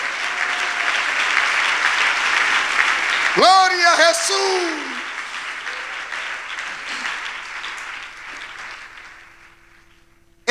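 Church congregation applauding the Lord during a sermon, a sustained wash of clapping with a voice shouting out midway, gradually fading away toward the end.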